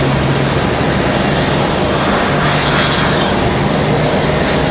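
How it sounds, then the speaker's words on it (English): A JetBlue airliner taxis out at Raleigh Durham airport with a loud, steady engine roar and whine, a constant broadband rush that holds without pause at close range. "So we check out JetBlue taxiing out here."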